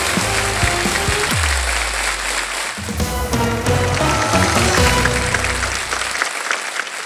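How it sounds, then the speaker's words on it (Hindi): Studio audience applause on an Indian game show, a loud, dense clapping wash over a low musical tone that fades out, continuing steadily for about seven seconds. "जोरदार तालियां."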